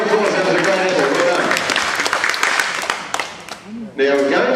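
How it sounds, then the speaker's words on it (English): Audience at a wildlife park farm show clapping in a burst of applause, a crowd of hands rattling steadily for a few seconds before a presenter speaks over the end. "Let's give him a big round of applause."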